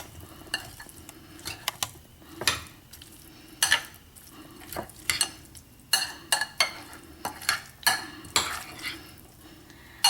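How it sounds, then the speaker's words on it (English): A spoon repeatedly scrapes and knocks against a bowl as potato, celery and red pepper salad is tossed with dressing, making a string of irregular close clinks with wet squelching between them. "we're going to give it all another mix so that we can incorporate the dressing well to add flavor to"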